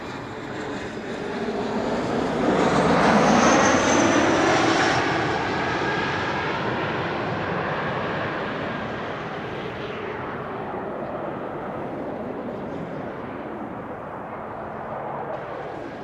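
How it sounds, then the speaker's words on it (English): A CRJ regional jet airliner arrives at Amsterdam Schiphol Airport, its engine roar swelling loudly as it passes nearby, then fading into a long, steady rumbling wash as it moves away. "this is the first CRJ of the show, Lufty flight 988, arriving from Frankfurt."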